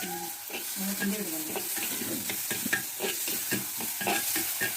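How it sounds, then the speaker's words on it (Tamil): Vegetables for potato masala bonda sizzle steadily in a hot pan while a utensil stirs and scrapes, with brief low talk at the start. "இதெல்லாம் நல்லா வதக்கவும்"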